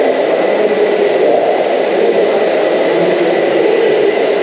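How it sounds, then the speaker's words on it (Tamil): A train stands at a railway station in Tamil Nadu at night, producing a loud, steady engine hum and rumble that continues unchanged throughout, with no talking. "ஏற்கனவே வந்து நிற்கிது பாருங்க ட்ரெயின்."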